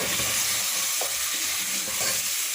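Chicken with spices and yogurt fries in a pot, giving a loud, steady sizzle with a few soft stirring scrapes and no talk.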